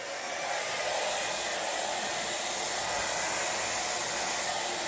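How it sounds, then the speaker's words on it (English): A blow dryer on its cool setting blows a constant, close, airy whoosh across epoxy resin artwork, steady and uninterrupted throughout with no voices. "I go in there with the blow dryer now."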